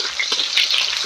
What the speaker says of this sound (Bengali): বাদামি করে পেঁয়াজটাকে আমি ভেজে নেব